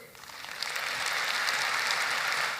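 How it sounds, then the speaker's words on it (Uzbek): An audience at an Uzbek stand-up comedy show breaks into a short burst of clapping. It swells quickly and holds as dense, even applause, heard from a distance. "bitta qarsak chalsin-da"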